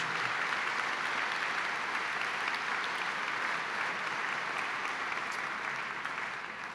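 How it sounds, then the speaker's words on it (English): A gala audience applauds its benefactors with sustained, even clapping from a large crowd, fairly distant and soft, fading a little at the close. "one more round of applause for all these generous benefactors"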